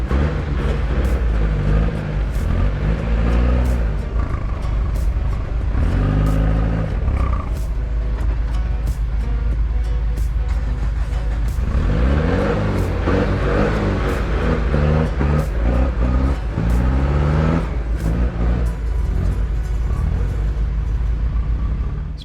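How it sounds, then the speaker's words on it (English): A Colt bakkie 4x4 engine revs hard while climbing a rock face off-road at night, with a loud, steady roar whose pitch repeatedly climbs and drops as the engine strains under load. "near the top the gear and diff ratios bites as the Colt stalls under pressure"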